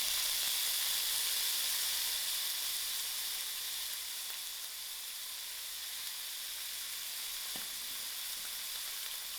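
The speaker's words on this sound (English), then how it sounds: "To my oil, I'm going to add in my onion." Onion dropped into hot oil on a stove at moderate heat, a loud steady sizzle and hiss that fades slightly over time, with no voices.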